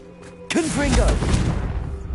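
A Confringo fire spell bursts in Hogwarts Legacy, exploding in a sudden loud blast with a heavy booming thud and a rumbling, crackling tail, along with a voice.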